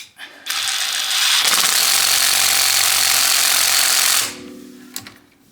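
A Parkside Performance PDSSAP 20 B2 cordless impact driver runs a lug nut onto an aluminium wheel hub at a 120 Newton meter setting, giving a loud, close, buzzing hammering burst of about three seconds, then stopping with a few clicks.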